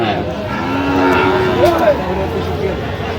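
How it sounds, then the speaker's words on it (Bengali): Sahiwal-breed cattle at a Noakhali farm let out a drawn-out moo with a rising and falling pitch, close and fairly loud, while people talk nearby. "আচ্ছা বেলাল ভাই একটু গরুগুলো আমরা দেখবো"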